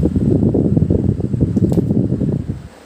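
An electric fan drawing 17 watts runs close by with a steady whirring hum and soft rhythmic flutter, then winds down near the end.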